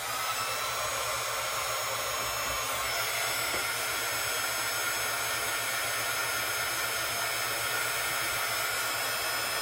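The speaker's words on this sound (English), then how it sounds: "I'm gonna take my heat tool and I'm gonna go ahead and heat the embossing powder up" A steady, loud whooshing blower from a handheld heat tool heating embossing powder runs without pause, a constant airy roar close by.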